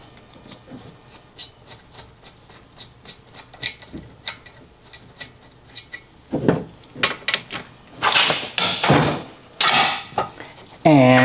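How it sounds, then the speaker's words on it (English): A 14 mm socket on a ratchet works loose the brake caliper bolts on a 2011 Toyota Sienna. Sharp, regular metallic clicks come first, then heavier bursts of scraping and clanking. "We're going to need a 14 millimeter socket and ratchet for that"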